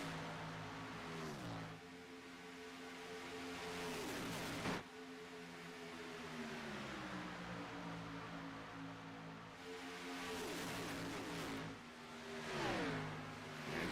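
Race car engines in a NASCAR Xfinity sim race at Daytona, a lead pack droning at high revs with rising and falling pitch sweeps as cars pass, steady and moderately loud throughout.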